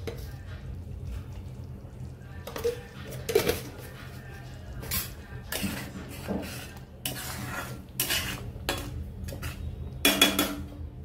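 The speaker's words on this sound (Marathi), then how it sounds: "पाच मिनिटाचं परत झाकण ठेवून आपण शिजवून घेऊया मसाले" Metal clatter of a lid and cookware as a pot of paneer masala is covered to cook the spices, several sharp clinks and scrapes spread across the stretch over a low background hum.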